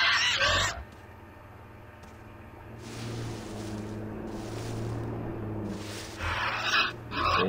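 Attacking bird in the video game Far Cry 3 gives a few harsh, goose-like honking squawks in bursts over a low, steady in-game hum.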